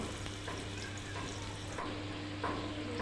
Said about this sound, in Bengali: আলুটি ভালো করে ভাজবো লাল লাল করে